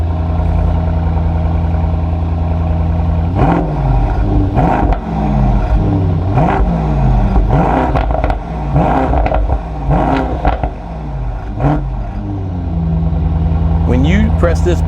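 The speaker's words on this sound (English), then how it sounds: "the exhaust note is wonderful on this car" A 2019 Mercedes-AMG GT 63 S with a race-style exhaust revs up repeatedly in loud, rising bursts, the engine note climbing and falling close by.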